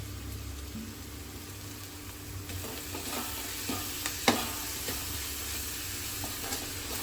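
Ginger, garlic and green chilli paste frying in oil in a pan for chilli chicken, a steady low sizzle with occasional stirring scrapes and a sharper clack near the middle, no talking.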